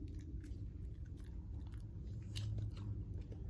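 A puppy gnaws and bites on a fetch toy up close, with steady crunching and chewing sounds running throughout.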